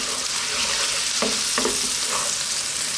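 Turmeric, potatoes and garlic fry steadily in a pan with a continuous sizzle, while a spoon stirs through them with a few short scraping strokes near the middle.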